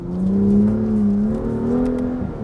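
A BMW M2's engine revs under acceleration on a damp road, a loud, close, sustained drone whose pitch climbs and holds steady throughout.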